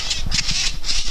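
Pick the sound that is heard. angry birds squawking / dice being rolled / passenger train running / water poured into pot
angry birds squawking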